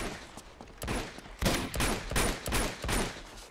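Rapid bursts of gunfire from the video game Uncharted 2 crack out in quick clusters, loud and close, with short gaps between volleys.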